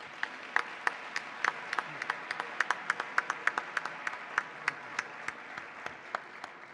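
A small audience applauds an education award at a Latino Heritage celebration. The clapping is light and scattered, with distinct individual claps spread evenly across the whole stretch.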